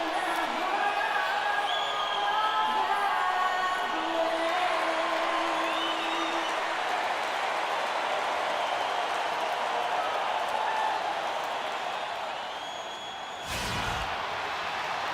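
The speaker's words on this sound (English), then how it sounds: "the crowd is filing in the Pepsi Center, looking to cheer on the Nuggets" Crowd noise from a basketball arena in the NBA 2K16 video game, set at Denver's Pepsi Center before a Nuggets game: a loud, steady wash of murmuring fans and scattered whoops, with a brief thump near the end.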